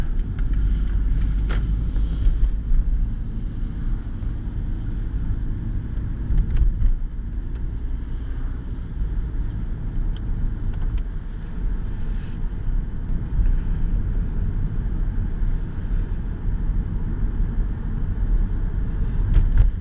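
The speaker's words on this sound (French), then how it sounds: "Donc là actuellement le moteur tourne puisque la voiture est froide" A cold Toyota Prius 3 petrol engine running at steady idle, heard from inside the car as a continuous low rumble and hum with little variation and no talking.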